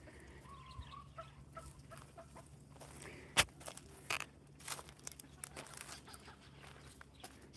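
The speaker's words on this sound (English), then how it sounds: "you got PD and Tahoe, game hen, and the white peafowl, Prince." Soft clucking and scattered calls from a game hen and white peafowl at a pheasantry in the evening, faint and intermittent over low outdoor hum, with a few sharper nearby clicks and bursts.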